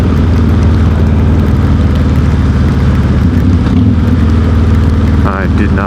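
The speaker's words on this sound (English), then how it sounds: "I guess I'll be downshifting after all." A motorcycle engine downshifting during a ride, a steady loud engine drone with wind rush throughout and a brief change in pitch near the end.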